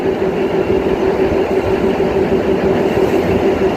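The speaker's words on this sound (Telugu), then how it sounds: "మనకి ట్రైన్ ట్రాక్ అయితే ఇక్కడ స్విచ్ అవుతుంది" A passenger train on the Secunderabad–Siddipet line rolls over a track switch near Gajwel railway station, giving a loud, steady rumble with a constant hum and no distinct clatter standing out.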